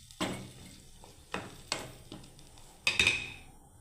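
A metal lid goes onto a pot of mixed five-vegetable curry, giving four separate clanks and clinks spread over a few seconds. The last one is the sharpest, heard close by in an otherwise quiet kitchen.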